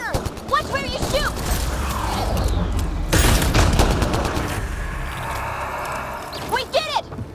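Gunfire in the video game Mass Effect Andromeda, with loud rapid bursts of shots and booms over a busy firefight while voices shout.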